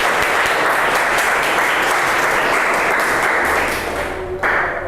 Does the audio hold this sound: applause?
yes